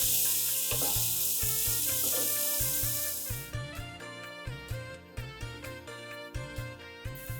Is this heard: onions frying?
yes